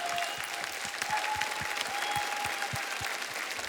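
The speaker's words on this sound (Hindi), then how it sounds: "जोरदार तालियां जय विजय के लिए" A studio audience applauds a comedy duo on a television comedy show, with scattered individual claps forming a fairly faint, steady patter throughout.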